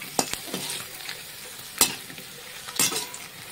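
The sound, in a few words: papad frying in hot oil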